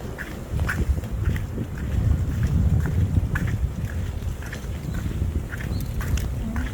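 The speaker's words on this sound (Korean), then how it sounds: "식사동 날씨는 지금 바람이 또 제법 있습니다." Gusty wind blows outdoors in Siksa-dong during a barefoot walk, a steady low rumble buffeting the microphone with faint recurring clicks, and no one speaking.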